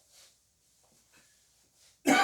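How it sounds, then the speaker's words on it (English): A single loud, harsh cough bursts out at the end after near-silence with faint breathing. "I'm already coughing."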